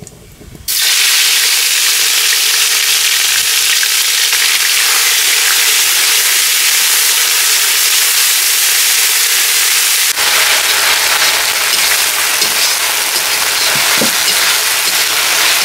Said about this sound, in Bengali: হ্যাঁ এবার যাবে আদা রসুন পেঁয়াজ আর লঙ্কা বাটা।